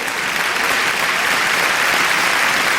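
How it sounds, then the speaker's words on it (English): An audience at a gala in Cancún, Mexico applauds steadily, dense clapping filling the room without a break. "Supreme Master Ching Hai's Association, so we applaud them all."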